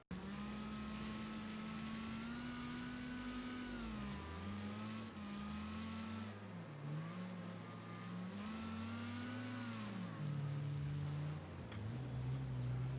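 Engine revving of a car in the racing game Wreckfest on a snowy track, loud and continuous, the pitch rising and falling through downshifts and acceleration around a corner, with no voices.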